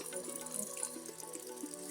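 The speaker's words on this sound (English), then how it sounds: "squishing out the soap from my hair and the rinse cloth, and it's full of water" Water squeezed from a soapy rinse cloth trickles and splashes softly, a faint close-up stream of dripping liquid with no voices.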